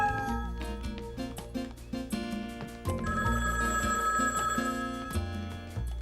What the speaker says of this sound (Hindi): डैडी का फोन होगा लियो के बारे में बताने के लिए